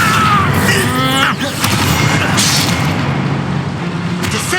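The Accio spell is cast in Hogwarts Legacy: a whooshing magical effect with sharp cracks and booms, loud and close, over a busy combat soundscape.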